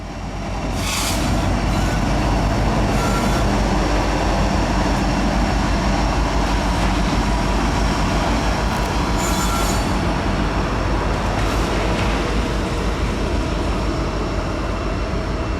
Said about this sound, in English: This train is arriving into its final destination at the south end of the yard.